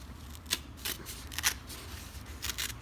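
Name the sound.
paper being trimmed by hand with fingers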